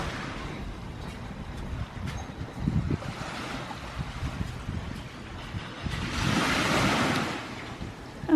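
Ocean waves at the beach in Akumal, Mexico, with surf washing in close by, a steady roar that swells twice as breakers hit, mixed with wind buffeting the microphone.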